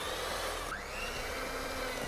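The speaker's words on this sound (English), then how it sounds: "let's just whisk together my butter, and I've got golden caster sugar" Butter and golden caster sugar being whisked together for spiced parsnip cupcakes, giving a steady, continuous whirring hiss that runs evenly from start to finish with no talking.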